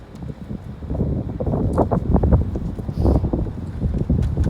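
Gusty wind buffets and rumbles across the microphone outdoors, loud and continuous with rising and falling blasts.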